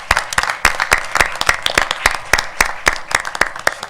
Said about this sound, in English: would you mind just joining me in a round of applause to Jan Lemon and the cemetery board?